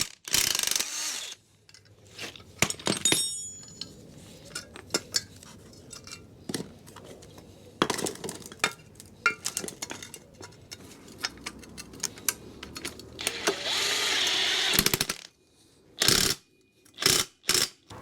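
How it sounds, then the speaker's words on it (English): Hand tools work on a new shock absorber being bolted onto a Ford Escort Mk6 van, giving close, crisp ratchet clicks in irregular bursts, with metallic clanks and rustling between them and louder ratcheting toward the end. "get the new one connected up and then get it bolted onto the vehicle"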